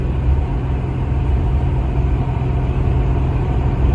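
Steady low road rumble from inside a car cruising along a long, lonely tree-lined highway in northern Ontario, an unbroken engine and tyre drone with no talking.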